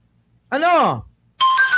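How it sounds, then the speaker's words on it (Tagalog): A phone chimes a text message notification: a short rising and falling electronic tone, a brief gap, then a bright ringing chime, loud and close. "May nag-text!"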